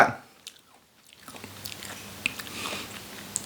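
Dried honey lemon slices bitten and chewed close up, with quiet crunchy chewing sounds and a few small sharp bites against a soft background.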